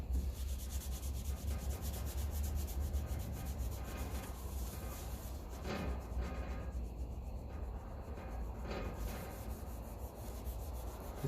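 Overspray is rubbed off a tractor battery for a 1954 Ferguson 20 TEF diesel: a faint, steady scrubbing and wiping against a low background hum, close, with no talk.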